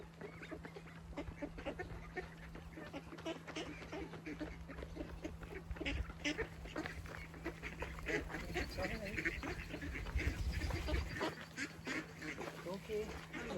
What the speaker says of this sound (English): one of its main highlights is its duck pond